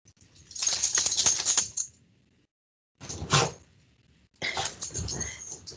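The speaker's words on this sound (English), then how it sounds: "chase my dog out. She thinks it's playtime" A pet dog moves about a room in playful bursts, producing scuffling, clattering and rustling noises in three separate spurts separated by a brief quiet gap.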